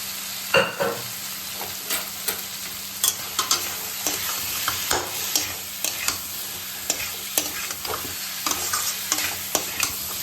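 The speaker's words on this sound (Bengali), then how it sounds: "সেই ওলটা দিয়ে দেবো, দিয়ে ওলটা দিয়ে আবার একটু কষি" Boiled elephant foot yam stir-fried in spice paste in a pan gives a loud continuous sizzle broken by frequent quick scrapes and knocks of the spatula, close up with no talking.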